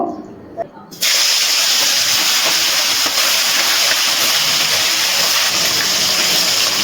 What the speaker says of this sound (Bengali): এবারে এই ম্যারিনেট করা চিকেনটা আমি তেলের মধ্যে দিয়ে ভেজে নেব।